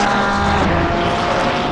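A GT3 race car in a PS5 racing game at Spa gives a loud, sustained engine drone, a dense rumbling roar that holds steady without pauses or talk.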